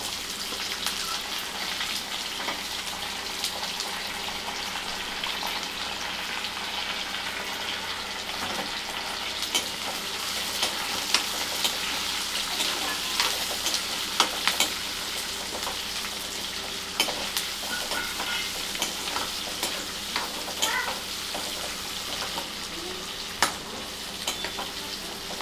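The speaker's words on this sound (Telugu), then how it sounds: "ఇప్పుడు దీంట్లోనే మనం ఉల్లిగడ్డ కూడా వేసుకుందాం." Chopped onion sizzles steadily in hot oil in a pan while making uggani, a constant close frying hiss with scattered light stirring scrapes throughout.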